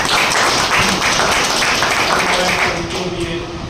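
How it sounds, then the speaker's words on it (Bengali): A crowd claps steadily at a women's welfare society's marketing management gathering in Baliadanga, Kaliachak, Malda. The applause is dense, loud and sustained throughout, easing slightly toward the end. "হাততালি হয়ে যায়।"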